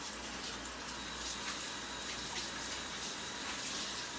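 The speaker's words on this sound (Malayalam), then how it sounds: "ആ ചൂടുവെള്ളം എടുത്ത് സിങ്കിന്റെ അകത്തോട്ട് തണുത്ത വെള്ളത്തിൽ കഴുകുക" Water runs steadily from a kitchen sink tap while rice is washed in a Kerala home, a constant, even hiss of flowing water with no voices.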